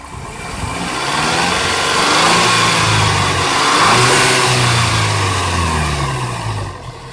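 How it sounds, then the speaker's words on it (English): A stock Mark V Volkswagen GTI hatchback engine revs up and down in a few smooth swells, loud and close, with a steady moderate exhaust note and no talking. "So this is what the car sounds like stock."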